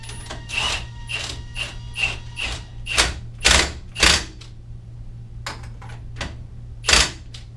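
A 1 3/16 inch socket on a ratchet tightens a nut on a Yamaha YXZ 1000R transmission, giving a series of sharp, close clicking ratchet strokes in irregular bursts over a low steady hum.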